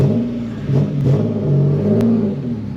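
A boosted Nissan 370Z engine revs under half throttle in a loud, steady drone with a slight rise and fall, heard close up with no voices over it.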